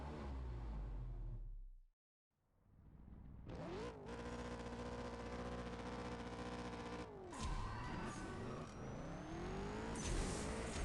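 Car engine in a CSR Racing 2 drag race video game, revving hard through rising pitch sweeps with quick gear shifts, loud and continuous after a brief silent gap.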